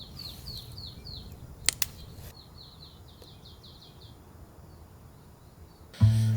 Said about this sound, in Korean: 이른 아침에 새소리가 참 많이 들려요.